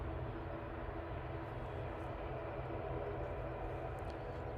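Singapore Airlines airliner taxiing at Manchester Airport, a steady low rumble of jet engines heard from a distance, continuous and even throughout with no talk.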